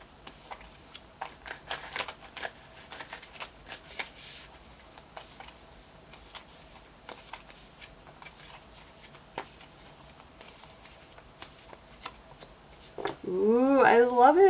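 Spirit animal oracle cards being shuffled for a reading: a long run of soft, quick paper flicks and taps, fairly quiet, before a voice starts talking at the end.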